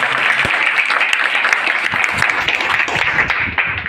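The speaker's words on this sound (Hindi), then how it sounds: "आपके जोरदार तालियों से स्वागत करते हैं" A hall audience at a general knowledge competition prize distribution breaks into loud, sustained clapping to welcome a guest, a dense patter that continues unbroken before thinning slightly at the end.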